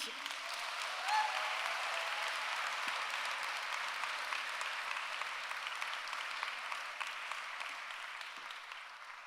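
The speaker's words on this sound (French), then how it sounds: "Un tonnerre d'applaudissements pour Marie-Paule Mogheni." Audience at a slam poetry performance gives sustained, even applause, a steady wash of many hands clapping that slowly fades toward the end.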